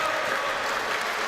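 A wrestling crowd at an indoor event claps in a steady, dense wash of applause, loud and continuous throughout.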